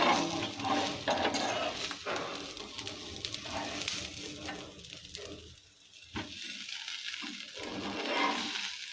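Rice and poha dosa frying on a hot pan, a steady soft sizzle with scraping stirs and light metallic clinks running throughout, close by with no talking.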